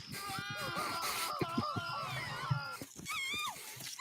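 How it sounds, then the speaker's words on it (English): Cartoon puppy Scrappy-Doo whimpering and whining in a high, wavering voice, near and fairly steady over a few seconds with short breaks. "It's just Scrappy-Doo"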